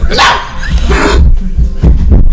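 A puppy barks and yips in a few quick, close, loud bursts, the sounds broken and uneven across a couple of seconds, with no clear talk over them.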